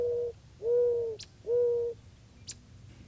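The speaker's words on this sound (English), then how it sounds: "Here's the classic wild dove of North America." A wild mourning dove coos nearby, giving two long, smooth, mellow notes in a row after an earlier one fades out, with faint higher chirps from other birds in the background.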